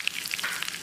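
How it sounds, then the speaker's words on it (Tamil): Mustard seeds spluttering with curry leaves in hot oil for a sambar tempering, a brief burst of sharp, close crackles and pops over a soft sizzle, no talking. "கடுகு பொரிஞ்சிருச்சு. இதில் கொஞ்சமாக கறிவேப்பிலை"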